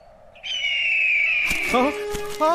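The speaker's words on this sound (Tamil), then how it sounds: "ஐயோ கழுகு" A cartoon eagle lets out a long, piercing, slowly falling screech, then a voice breaks in talking over the final moments.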